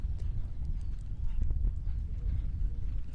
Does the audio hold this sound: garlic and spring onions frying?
no